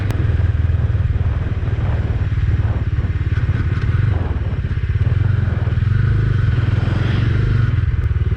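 A Bajaj Dominar 250 motorcycle cruising in sixth gear, its engine a steady loud drone with a dense low rumble and some road clatter, continuous and close throughout.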